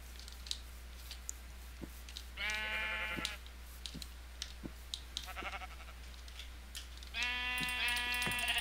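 Bleating of sheep in a video game, with a few drawn-out calls between sharp clicks and small hits, fairly quiet overall.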